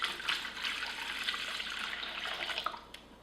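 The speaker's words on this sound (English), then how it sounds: "we start with 2 cups of warm milk." Two cups of warm milk poured into a bowl for English muffin bread, a steady close splashing stream lasting a few seconds without talk.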